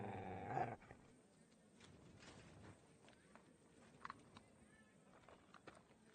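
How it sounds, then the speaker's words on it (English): A dog in the medieval role-playing game Kingdom Come Deliverance 2 makes quiet, low sounds after a brief loud burst at the start, with soft footsteps and scattered small noises nearby. "Aye, aye, you silly doggy."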